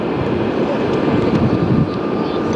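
A JetBlue airliner roars on its takeoff run at LAX, with a broad, steady engine rumble and some wind noise that hold loud and close throughout, with no talk.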